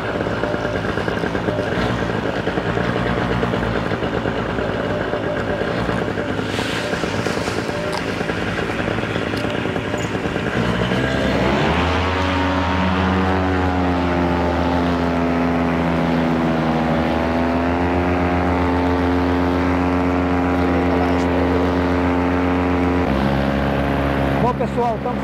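Paramotor engine running loudly nearby at Rampa do Cristo, Patrocínio, droning steadily before settling into a stronger, even roar as another paramotor takes off, with someone speaking over it.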